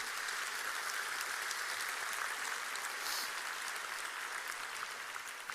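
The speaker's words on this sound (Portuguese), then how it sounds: "Se é para Jesus, você pode aplaudir" A church congregation applauds during a celebration service, a steady, dense wash of many hands clapping at a distance, even and sustained throughout with no voices standing out.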